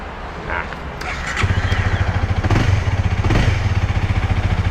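A Honda Rebel 300 motorcycle starts up, then settles into a steady, rhythmic idle that thumps close by. It begins under faint background talk.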